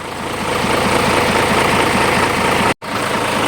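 A Mitsubishi Fighter truck's 6M61 diesel engine, with diesel mixing into its oil, runs loud and close with a steady knocking idle rhythm, cut by a brief dropout near the end.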